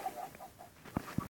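Chickens in the Minecraft video game give two short, close clucks near the end, after a stretch of quiet, soft background tones.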